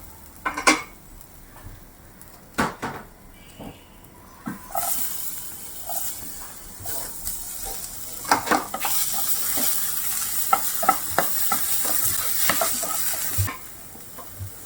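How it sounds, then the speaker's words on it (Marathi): Mixed vegetables with green chillies frying in a pan without oil, stirred now and then: a continuous sizzle and hiss with repeated scraping and clinking of a spoon against the pan, close and clear. "हलवत राहायचं असं मध्ये मध्ये"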